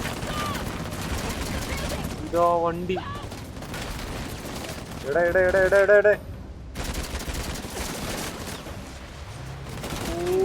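Gunfire rattles from several directions in a battle in the video game Uncharted: The Lost Legacy, bursts of automatic fire with booms and mechanical clatter, while a player talks over the action.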